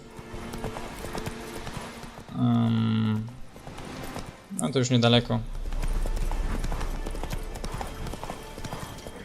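Horse hooves clip-clop in The Witcher 3: Wild Hunt game audio, coming in two short bursts of steady hoofbeats over background game sound while someone speaks Polish.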